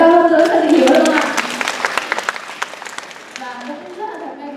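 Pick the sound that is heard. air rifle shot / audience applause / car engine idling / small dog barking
audience applause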